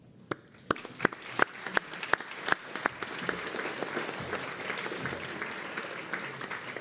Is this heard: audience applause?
yes